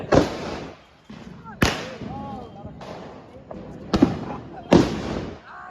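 Diwali firecrackers burst in a quick series of about five loud, sharp bangs close by, each followed by a short crackling tail, while people talk and call out between the blasts.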